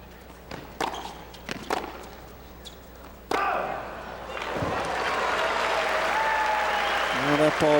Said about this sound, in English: Crowd's gonna roar.